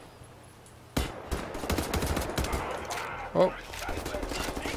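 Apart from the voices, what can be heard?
gunfire in the video game Wolfenstein: The New Order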